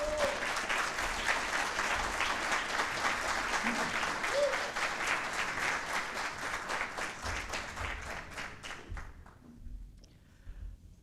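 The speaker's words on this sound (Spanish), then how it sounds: "Por favor, un fuerte aplauso para Ignacio Posler." An audience at a book presentation in Chile breaks into sustained applause, a dense wash of many hands clapping that holds steady for most of the clip before fading out near the end.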